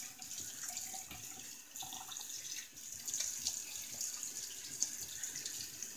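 Water runs steadily from a tap into a sink, a soft continuous hiss with light splashes, as a face is wet before a shave; quiet and alone.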